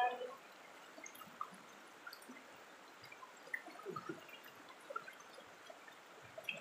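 River water flows and trickles faintly in forest, a soft, steady wash with scattered small drips and gurgles, fairly distant and quiet throughout.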